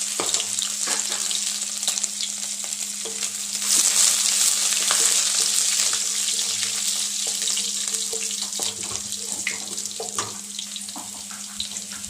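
Curry leaves, ginger and green chillies frying in a pan, a loud close sizzling hiss that surges briefly then settles into a steady crackle, with a low hum underneath and no voices.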